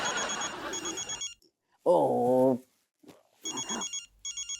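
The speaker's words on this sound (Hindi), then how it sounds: "मंत्री जी का फोन।" A telephone ringing in a Hindi TV comedy scene, with bursts of a repeating electronic ring broken by a short loud voice exclamation, then the ringing resumes in pulsed bursts.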